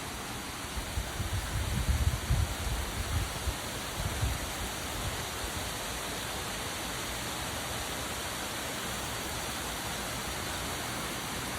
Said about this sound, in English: But that's our waterfall